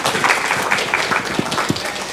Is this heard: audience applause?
yes